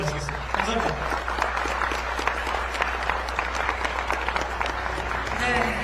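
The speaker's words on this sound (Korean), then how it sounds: "큰 박수를 하면서 마치겠습니다" An audience at a forum on democracy in the AI era gives a big round of applause to close a discussion, a steady dense clapping throughout over a low hum, with speech mixed in.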